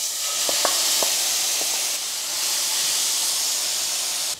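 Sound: mushrooms and onion sizzling in a pan

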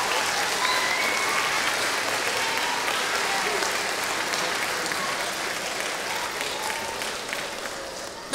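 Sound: applause at a school carol concert

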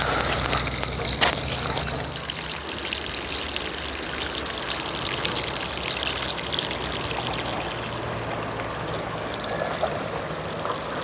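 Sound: waste water pouring from a pipe into a river

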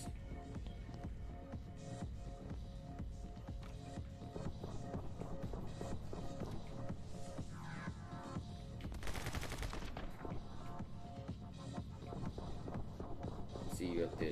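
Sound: gunfire in a video game

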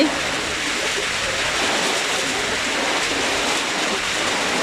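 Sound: rain falling

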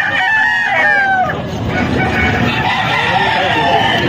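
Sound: chickens and roosters crowing

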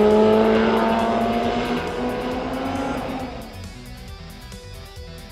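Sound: car driving a track lap on Toyo Proxes R888R tires

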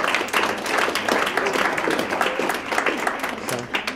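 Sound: audience applause

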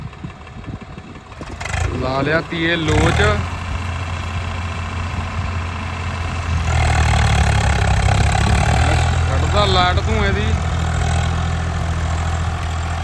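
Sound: tractor engine idling

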